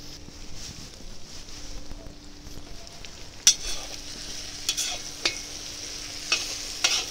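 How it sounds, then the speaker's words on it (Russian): Sun-dried tomatoes stew in a kazan over a campfire with a soft, steady sizzle. Several sharp utensil clinks against the metal pot stand out, close by. No one speaks. "Добавляем вяленые помидоры, чтобы они протушились у нас, ну, буквально 5-10 секунд"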